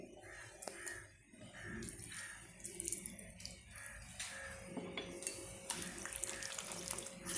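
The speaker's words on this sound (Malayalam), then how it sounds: "അല്പം വെള്ളം കുറച്ച് വളരെ കുറച്ച് വെള്ളം" A little water is poured into a pan of chicken curry, a soft uneven splashing trickle in short bursts, faint against a quiet kitchen with a crow cawing in the background.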